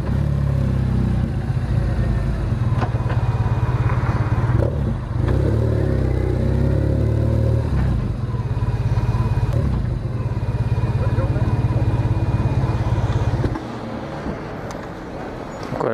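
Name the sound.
motorcycle riding in daytime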